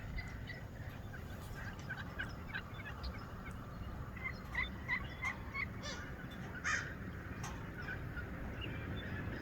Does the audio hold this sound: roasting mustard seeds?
no